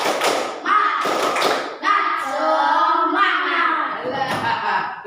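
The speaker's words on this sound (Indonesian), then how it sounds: "Coba sekarang tepuk semangat dulu ya" A school class does a rhythmic spirit clap, with claps and thumps in short patterned bursts alternating with children's chanted voices, all close and fairly loud.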